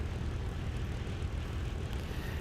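A propeller aircraft in War Thunder gliding on approach with its landing gear lowered, a continuous steady engine and airscrew drone at even loudness with no voices.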